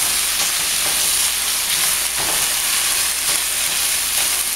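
Tilapia pieces and vegetables are pan-seared in a hot wok for a stir fry, giving a continuous loud sizzle with brief scraping surges as the food is stirred.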